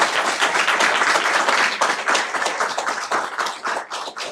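A room full of people claps at a school district board meeting, a loud, dense burst of applause that holds steady for several seconds before thinning slightly toward the end.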